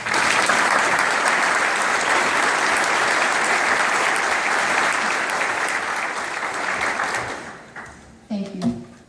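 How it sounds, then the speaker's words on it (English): Audience at a formal ballroom event applauding for an ambassador, with loud, dense, sustained clapping from a large crowd that gradually thins and fades out, followed by a few brief knocks at the end. "Please, a round of applause."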